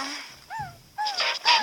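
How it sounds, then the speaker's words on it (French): A dog whimpers and whines in high, wavering cries, several short plaintive calls close by with brief gaps between them. "Un chien!"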